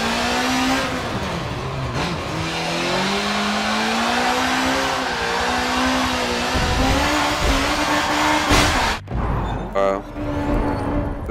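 Racing car in the Forza Motorsport 7 video game, engine droning steadily at high revs for most of the run, pitch shifting with gear changes, then briefly cutting and revving again near the end, loud and close.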